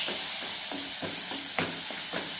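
Whole cumin seeds and a quarter of a capsicum sauté in a pan for mushroom fried rice, with a soft steady sizzle broken by repeated scraping stir strokes at a slow, even rhythm; no talking.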